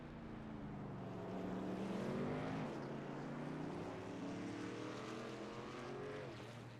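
Race car engines at a Texas 125 race roar at steady high volume, their pitch sweeping upward as they accelerate down a back straightaway.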